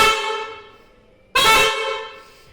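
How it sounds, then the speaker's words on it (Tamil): Two loud blasts from the horn of a modified TVS 50 moped, each a bright, buzzy tone that fades out, with a short pause between them. "இப்போ வந்து நம்ம ஹார்ன் அடித்து பார்க்கலாம்."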